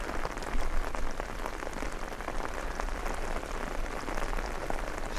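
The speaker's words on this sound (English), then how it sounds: "the rain is coming down, but I have made it to Crater Lake" Steady rain pours down on a mountain trail near Crater Lake on the Pawnee Pass route, a dense, even hiss of drops striking close surfaces that continues unbroken, with no voices.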